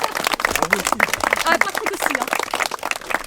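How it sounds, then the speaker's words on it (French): Audience clapping during a weekend trophy presentation in the Aube, France: brisk, dense handclaps rattling continuously from a nearby crowd while people talk over them. "on va les applaudir"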